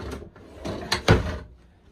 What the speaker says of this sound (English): It's got drawers, which is super nice.